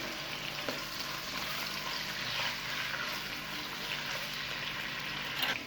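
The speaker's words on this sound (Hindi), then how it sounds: "मिक्स करेंगे और इसको इस वक्त तक कुक करेंगे जब तक इसका कलर ना चेंज हो जाए" Chicken cubes sizzle and fry steadily in a pan for a chicken pasta bake, with a continuous close crackle and occasional stirring.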